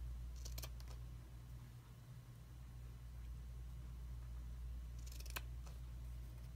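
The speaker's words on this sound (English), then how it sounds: "let me trim down this bow" Scissors trimming the bow on a flag quilt: two brief snipping bursts, one near the start and another toward the end, faint over a steady low hum with no talking.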